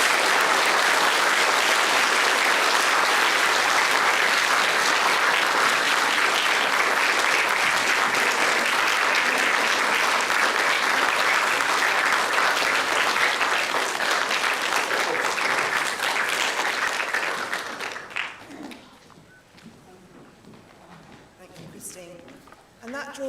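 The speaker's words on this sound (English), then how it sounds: "let's give Mrs. Rawlinson the most amazing round of applause for outstanding service." A school audience at the LVS Ascot Celebration Day 2021 bursts into loud, sustained applause that holds steady for about eighteen seconds, then thins out and dies away to a quiet room with a few scattered claps.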